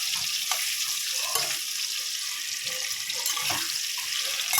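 Potatoes fry in a karahi of hot oil for a mutton curry, giving a steady, close sizzling hiss throughout with occasional soft stirring clicks and no talking.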